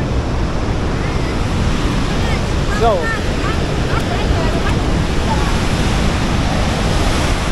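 Victoria Falls roars as a steady, loud wash of falling water heard from the bridge beside it, a continuous broadband rush with wind buffeting the microphone and faint voices in the background.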